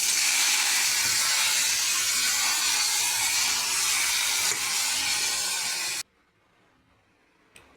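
Pumpkin leaves hit hot oil with fried garlic, giving a loud, steady sizzling hiss that runs for several seconds, then cuts off abruptly to near silence.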